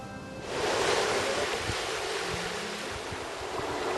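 Atlantic ocean waves washing onto a beach, a steady broad rush of surf with wind buffeting the microphone, starting after a brief quieter moment and continuing evenly throughout.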